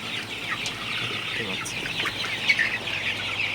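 A flock of 39-day-old Sonali super hybrid chickens clucks steadily in a hot poultry shed, gathered in front of a running fan; the dense, even chatter stays fairly loud and continuous throughout.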